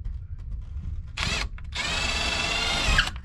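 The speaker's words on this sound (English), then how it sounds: "Let's go ahead and start drilling the holes." A power drill whirs in two bursts while drilling holes in a wall to mount a box, a short one and then a longer sustained run, close and loud with a steady high whine.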